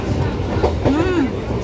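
Passenger train running on a quiet holiday trip, a steady rumbling roll with a brief squeal or horn-like tone rising and falling midway, heard from on board, with faint voices in the background.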